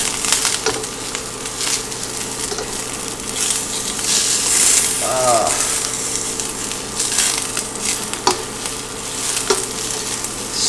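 Garlic frying in a pan, a steady close sizzle with occasional scrapes and clinks of stirring, going on throughout without any talk.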